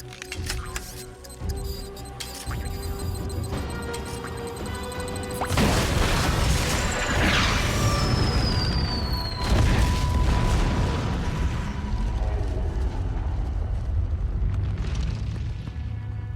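In a video game, an explosion blasts away a huge shipwreck lodged in the side of a giant turtle: quiet game sounds give way to a sudden heavy boom, followed by a long roaring, crashing rumble with debris and a second surge.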